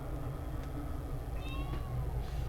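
A pet cat meows a few times, faint and somewhat distant, over a steady low background hum in a room where shaving is underway.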